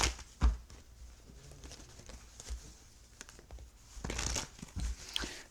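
Tarot cards being shuffled, with a run of papery crinkling and soft rapid patter, louder bursts near the start and near the end, and no talking.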